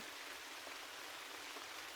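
Gentle rain falls outside in an unbroken, soft hiss, even and calm throughout.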